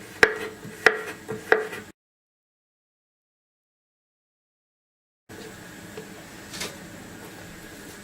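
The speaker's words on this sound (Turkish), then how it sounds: "Salatalığı da küçük küçük doğramıyorum. İri iri. Şöyle yan yan doğrayacağım." Three sharp knife chops cut cucumber into large chunks on a cutting board in quick succession, followed by silence, then a quiet room hum with one faint knock.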